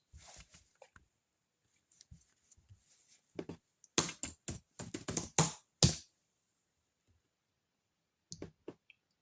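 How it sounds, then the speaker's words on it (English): Keys clatter in scattered clusters, a brisk run of quick taps in the middle, then a few isolated clicks after a pause. "just typing in a few things."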